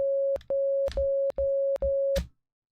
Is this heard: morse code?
yes